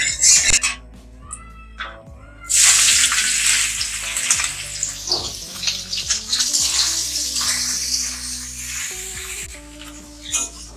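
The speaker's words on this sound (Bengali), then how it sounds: "প্রথমে আমি তেল দিয়ে সয়াবিন গুলো ভাজব।" Soybean chunks frying in hot oil in a wok, a steady bright sizzle that swells loudly partway through and stays dense, with some light clinks and no talking.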